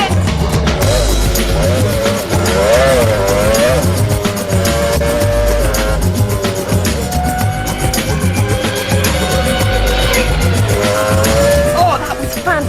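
A Formula One era racing car spins out at full noise, engine roaring and revving up and down continuously while tires squeal and skid, loud and close as if heard from inside the car.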